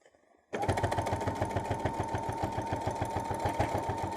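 After a brief quiet moment, a sewing machine starts up and stitches a travel pouch seam at a fast, even pace, a close, steady mechanical chatter that continues to the end.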